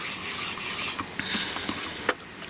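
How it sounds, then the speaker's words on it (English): Ink being wiped off a rubber Christmas sweater stamp, a soft close rubbing and dabbing with a few light taps and scrapes, quiet and without talk. "so we'll just wipe this off"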